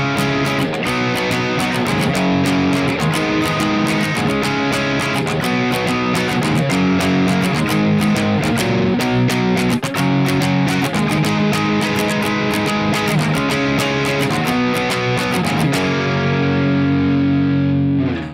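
Heavily distorted electric guitar plays the bridge of a song, moving through a sequence of barre chords with steady strummed rhythm, loud and up close, with no talking.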